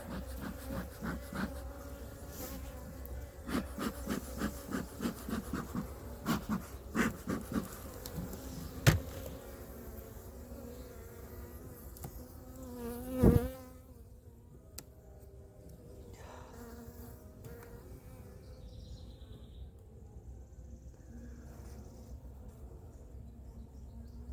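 Honey bees from a package hive drone in a steady buzz, with a busier stretch of sharp knocks and clatter of hive handling early on before the buzz settles into a quieter, continuous hum.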